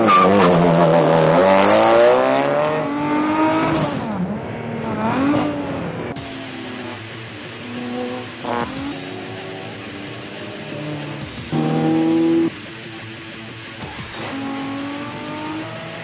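Race cars in the video game Need For Speed ProStreet at Willow Springs International Raceway roar through gear changes and hard acceleration, engines rising and falling in pitch with tire squeal, loud and continuous throughout.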